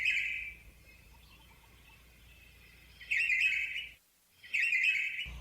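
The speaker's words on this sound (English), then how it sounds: "we're listening to the sound of Red-whiskered Bulbul in the background" Red-whiskered Bulbul singing in Hawaii, bright chirping phrases near at the start, then two more loud bursts after a quieter stretch, with no talk.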